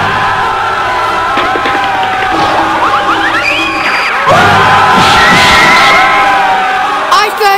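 A crowd of children screaming, shouting and cheering in a park, loud and continuous, with overlapping high-pitched whoops and yells that grow more intense partway through.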